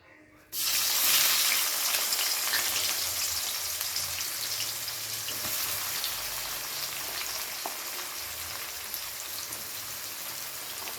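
Sliced onions dropped into hot oil in a pan burst into a loud, sudden sizzle that settles into a steady, dense crackling frying hiss.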